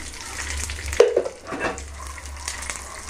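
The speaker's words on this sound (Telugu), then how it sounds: "సైడ్ కాస్త పల్లీలు వేసుకొని అందులో కాస్తంత ఆయిల్ కూడా వేసుకొని" Peanuts frying in a little oil in a pan while making a poha (flattened rice) mixture: a steady close sizzle with a brief clatter of stirring about a third of the way in.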